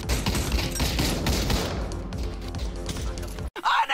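Dense, rapid gunfire from several rifles and machine guns in a WW2-style push in the VR shooter Pavlov VR, loud and sustained before cutting off abruptly near the end.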